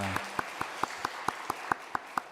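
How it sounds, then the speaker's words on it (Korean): At Philadelphia Antioch Church, a faint, evenly spaced clapping taps out about ten crisp claps in a steady, quick rhythm, sounding distant and sparse rather than like a full crowd. "격려의 박수 주시면 감사를 드리겠습니다"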